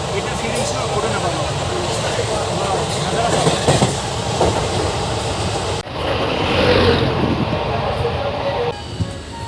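A train runs on rails between Duliajan and Rangia, a steady close rumble with rhythmic clatter and a sharp shift partway through, loud throughout with no clear talk over it.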